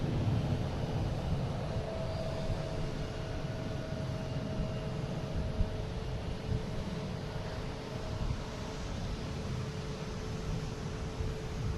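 Cape Air plane arriving from Nantucket to land at Boston Logan, a steady, fairly faint broadband engine rumble and hiss persisting throughout with a faint tonal hum, no talk.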